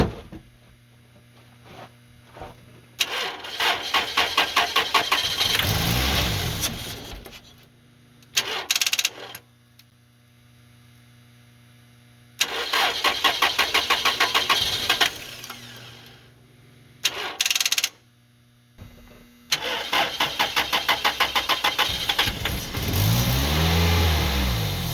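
An engine sprayed with starting fluid cranks and catches repeatedly, each loud run of revving lasting a few seconds before cutting out, with short gaps and brief sputters between, across four bursts. The engine has loose bolts, worn piston rings and heavy smoke.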